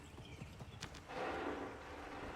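Horse hooves thud in a quick clip-clop rhythm in Assassin's Creed III Remastered, fairly faint, followed by a broader rush of noise from the game.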